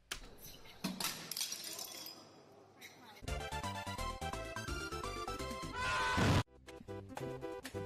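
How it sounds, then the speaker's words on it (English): Glass breaking and shattering with sharp crashes and tinkling shards, mixed among loud music and voices in a fast-cut meme compilation. "They got me cleaning up all this broken glass."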